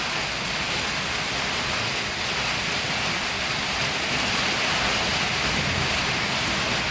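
Village rain pours down in a dense, steady hiss of drops on surfaces, even and unbroken throughout, with no voices.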